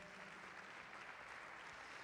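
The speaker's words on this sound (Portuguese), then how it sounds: "Dê uma salva de palmas ao Senhor." A church congregation claps in worship, a soft, dense wash of many hands heard from a distance, holding steady for a couple of seconds without voices on top.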